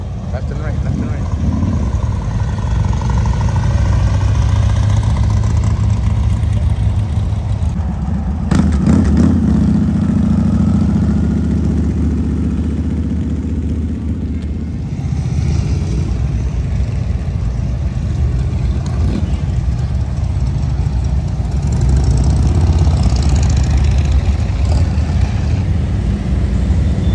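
Motorcycles rolling past on Main Street in Daytona during a bike rally, a steady loud rumble of engines rising and fading as bikes pass close by, with voices mixed into the din.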